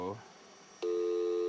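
A telephone dial tone from an Ameritec AM-7 central office simulator, with a brief tone burst, a gap, then a steady dial tone that sounds up close and continues to the end.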